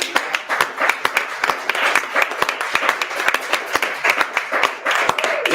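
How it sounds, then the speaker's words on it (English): Applause from a room of attendees at FOSDEM during an Ubuntu Touch session, dense rapid clapping filling the whole stretch at steady loudness. "I think that this deserves an applause in the whole room"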